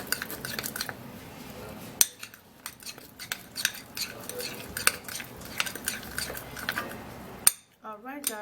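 A spoon clinks and scrapes against a bowl while mixing an okra and banana face mask, a busy run of close taps and stirs with a brief pause partway, no talk over it.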